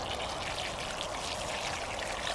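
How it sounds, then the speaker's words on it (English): Water poured into a shallow garden trench dug for planting spring onions, a steady continuous splashing and trickling hiss, close and even throughout with no pauses. "I just put a bit of water in the trench, just make sure there's some water down there."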